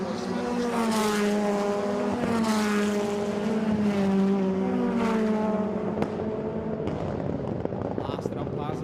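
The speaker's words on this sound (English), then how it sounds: "the wonderful sound of Supercars here at Mondello" Rallycross supercars race at Mondello Park, and several engines scream and rise through the gears in rising and falling sweeps. They sound near and loud, then ease off into a rougher, more distant mix of engine noise.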